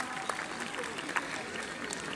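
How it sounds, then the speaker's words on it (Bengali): Applause from a crowd gathered at a March 26 Independence Day scout event in Ghoraghat, with scattered claps and a few sharper hand strikes; the sound is fairly faint and even over about two seconds. "সবাই করতালি দিয়ে"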